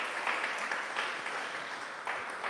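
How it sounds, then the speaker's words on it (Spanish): A church congregation applauds steadily, a dense, even wash of clapping heard from across the room, with no voices over it. "Démosles un aplauso al Señor por la vida de ellos."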